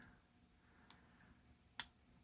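Two sharp, faint clicks, about a second apart, come from a pin setting while a Sargent lock is picked. The surroundings are otherwise quiet.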